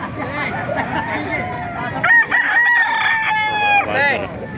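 Kanawayan gamefowl rooster crowing loudly and close, one long drawn-out crow with a wavering pitch, with other fowl clucking and noise around it.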